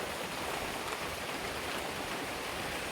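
Steady rain falls during a thunderstorm at a market, a dense continuous hiss at even loudness throughout, with no voices.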